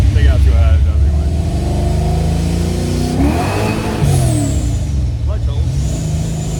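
A car driven with a newly fitted clutch revs loud and close, its engine tone climbing and falling in surges, with voices talking over it.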